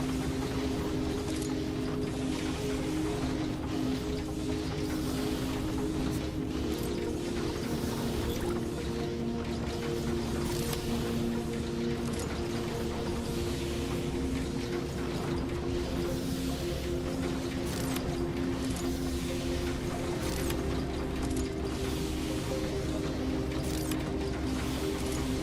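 Matter printer running in an outworld space-station video game: a steady mechanical hum with layered low tones and a continuous fine clicking, ratchet-like texture, holding evenly for the whole stretch with no voices.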